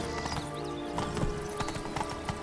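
Hooves of a horse galloping in The Witcher 3, a steady rapid clip-clop close by over faint ambient game sound, with a brief snort-like whinny mixed in.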